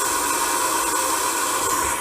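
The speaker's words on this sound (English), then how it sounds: "Okay, so that's white noise." Broadband white noise played as a demonstration, a steady, even hiss held at constant loudness for the whole stretch with no rhythm or pitch.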